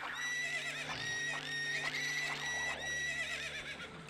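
A horse whinnies repeatedly over steady background music in Ocarina of Time, the high, shaky neighs rising and falling in several bursts with no talking.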